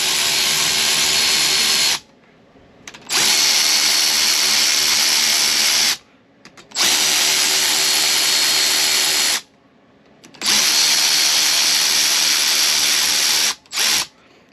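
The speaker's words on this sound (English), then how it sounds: "I'm going to go ahead and use this Milwaukee just to snug them up." A cordless Milwaukee power tool runs in three long bursts, snugging supercharger pulley bolts on a Kawasaki, loud and close with short pauses between each spin-up and a brief final blip.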